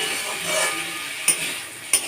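Banana stem (thor), steamed and salted, frying in oil with dried red chillies, a steady sizzling hiss with two sharp utensil clicks against the pan.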